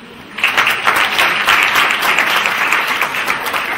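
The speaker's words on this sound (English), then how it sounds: "What's our applause?" Audience at a human rights defenders awards ceremony in Kenya breaking into applause; after a brief quiet moment, dense clapping rises suddenly and continues steadily, fairly close and loud.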